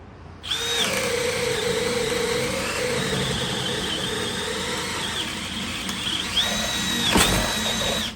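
A HyperTough brushless or Milwaukee M12 Fuel drill driver runs loud and close for about eight seconds, a steady whirring motor with shifting pitch under load and no talking.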